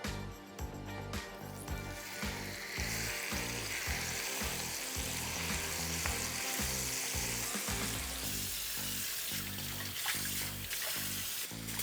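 Chicken sizzles steadily in a hot pan for pollo al mattone, a dense frying crackle throughout with a low rhythmic pattern of thumps underneath, no voices.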